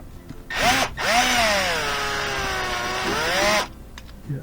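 Power drill fitted with a Torx 15 bit backing out the top panel screws on a front-load washing machine: a short whir, a brief pause, then a longer steady whine up close.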